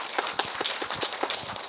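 A short burst of scattered, fairly quiet hand clapping comes from an audience at a Nowon-gu multicultural family discussion forum, with individual claps spaced unevenly and no speech.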